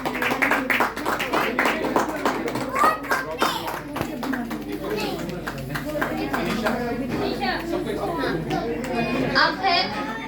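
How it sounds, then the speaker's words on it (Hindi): Audience at a 2022 Pragya award night ceremony claps steadily for the honorees, dense sustained applause with scattered chatter and children's voices mixed in. "एक बार जोरदार तालियां होते हैं इन सभी के लिए"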